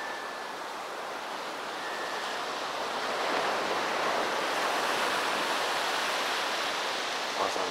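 Ocean waves wash onto a beach in the morning, a continuous broadband rush that swells slightly louder midway and holds steady, close and alone without talk.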